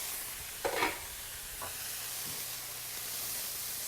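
Garlic cooks and caramelizes in a pan with lemon juice, giving a soft, steady frying hiss. A few brief scraping stir noises come through, the clearest one near the start.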